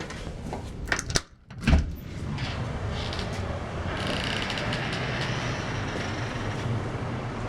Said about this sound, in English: See, it's gusting right now. Let me open the door so you can hear it.